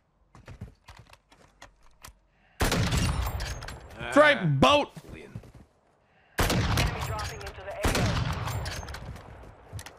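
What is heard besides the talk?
gunfire in a video game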